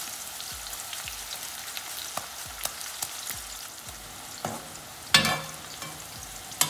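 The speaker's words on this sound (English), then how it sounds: "you can see our banana chips, they're frying" Banana slices fry in hot oil with a steady crackling sizzle, occasional sharper pops and a louder splash of bubbling partway through.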